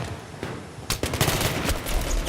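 Gunfire in the video game Battlefield 3: scattered shots, then from about one second a rapid run of loud automatic bursts and cracks that keeps going to the end, with no voices.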